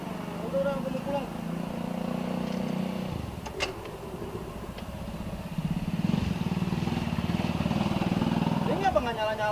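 Motorcycle that has run out of fuel, its engine or starter churning repeatedly without catching, with a steady mechanical drone throughout, a brief clatter partway, and people talking over it.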